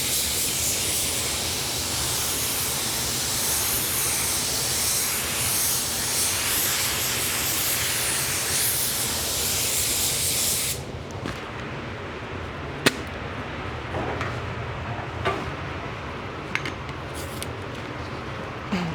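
Steady, loud hiss of a spray gun spraying Spies Hecker automotive paint onto sealer for about eleven seconds, then cutting to quieter bursts with a few short clicks.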